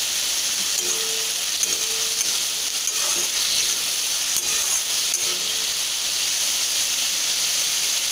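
Beetroot and carrot vegetables sizzle and hiss in a pan over a high flame, a steady close frying sound with occasional stirring and no talking.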